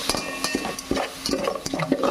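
Onions frying with ginger garlic paste for mushroom biryani are stirred in a pan, making loud, close, rhythmic scraping strokes roughly every half second over a light sizzle.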